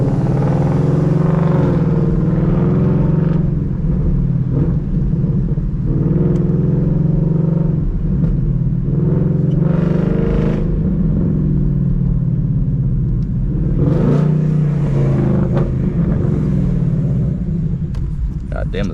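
A Mustang Mach 1 with catless long tube headers drives along, its deep exhaust rumble steady and close throughout, swelling slightly at times beneath someone talking.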